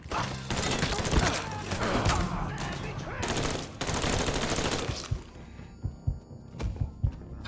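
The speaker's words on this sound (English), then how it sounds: "We got us a gunfight!" Heavy gunfire in the video game Mafia III, sustained loud bursts of automatic fire giving way to scattered individual shots and thuds, with voices shouting at moments.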